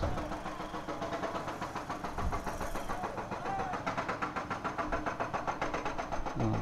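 Cars and engines idle in a heavy traffic jam on a road under repair at Parung Panjang, a steady mid-pitched rumble with a faint rhythmic knocking pulse building toward the end, no talk.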